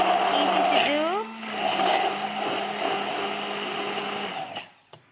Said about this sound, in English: So I will just blend this easy.